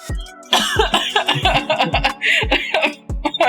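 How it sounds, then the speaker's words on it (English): A run of repeated close, loud coughs from one person, harsh bursts in quick succession over a few seconds, with a little breathy chuckling between them. "Because I really had a cough."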